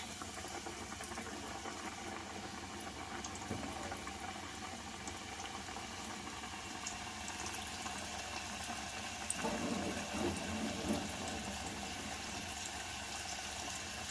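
Battered chicken pieces for a KFC-style crunchy recipe fry in hot oil over a low flame, a soft continuous sizzle and bubbling heard close but faint, with a slight swell near the end and no talking.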